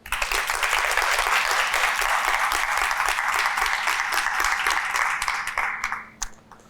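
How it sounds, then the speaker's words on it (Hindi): A studio audience on a Pakistani reality TV show breaks into sustained, even applause that holds for several seconds, then quickly dies away. "तालियां बजा दें।"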